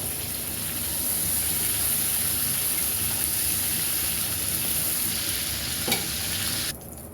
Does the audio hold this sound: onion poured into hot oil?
yes